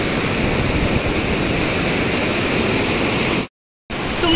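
Sea waves washing onto Bhatye Beach in Ratnagiri on a cloudy day, a loud continuous roar of surf that drops out for a moment before resuming.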